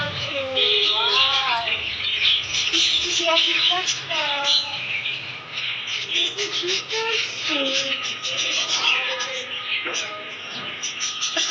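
Busy market ambience in Bangladesh with chickens and pigeons chirping and cooing close by, mixed with steady chatter from several people talking.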